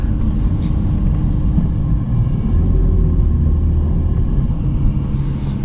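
A Ferrari sports car reverses with a deep, steady engine rumble that stays loud and close throughout, no one speaking.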